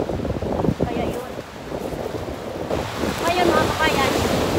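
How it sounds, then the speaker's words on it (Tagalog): Ocean waves roll and wash onto a beach in a steady surf, with gusts of wind buffeting the microphone and a voice speaking over the water. "Ang ganda ng ampas ng mga alon."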